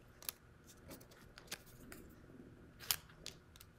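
Scissors snip through paper while cutting small rectangles for a children's pumpkin collage, a series of quiet close crisp cuts spaced irregularly, with no voices.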